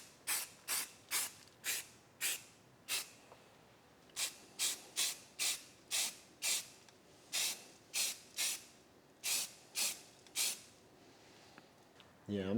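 Short bursts of an aerosol spray can laying primer onto a rusty car body panel, about twenty quick hissing sprays in uneven rhythm, close and fairly loud, with a voice starting right at the end.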